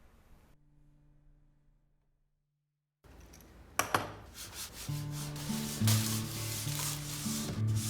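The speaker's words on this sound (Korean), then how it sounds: "미니 드릴을 이용해서 뚫어줍니다" A small high-speed mini drill whines against 3D-pen plastic, starting abruptly after a near-silent pause, then grinding steadily with shifting pitch, close and fairly loud.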